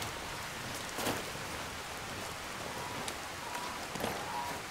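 Rain falls steadily in the video game Skyrim, modded with Requiem, as a continuous broadband hiss of drops on surfaces with a few slightly louder spatters and no voices.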